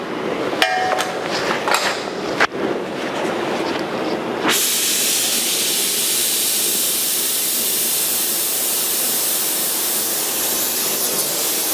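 A torch roars steadily for several seconds while heating the exhaust pipe on a 1982 Jeep CJ7 for bending, preceded by some metallic clanks and a sharp ignition burst.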